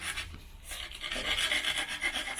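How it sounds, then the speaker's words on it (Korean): A handmade, molded aquarium rock for a saltwater tank is ground and smoothed with a rasping tool, producing faint, steady scraping strokes with no voices. "얘로 이렇게 좀 갈아서 좀 다듬어 줬고요"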